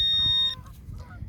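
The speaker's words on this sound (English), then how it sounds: "Shut up, ducks." A loud, close waterfowl honk lasting about half a second, followed by softer trailing calls and low background rumble.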